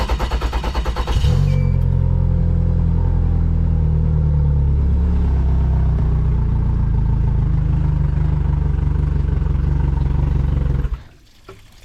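A Yamaha outboard boat motor cranks briefly in quick pulses, then catches and runs with a loud, steady low rumble for about ten seconds before abruptly cutting out into quiet.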